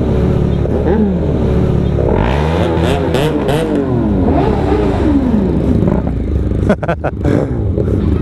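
Several motorcycles, two with inline-four engines and one inline-twin, rev loudly and close by, engine pitch rising and falling in overlapping sweeps over a steady idle rumble.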